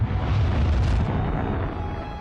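A supernova explosion rendered as a sound effect: a deep, roaring, sustained boom that fills the clip, with a rumbling low end and a rushing upper wash that slowly fades toward the end.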